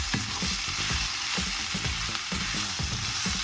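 Chicken kottu roti stir-fried in a pan with a ground masala powder of cardamom, cinnamon and clove: a steady bright sizzle runs throughout, broken by rapid, uneven clanks and scrapes of a metal utensil, close and loud, with no voices.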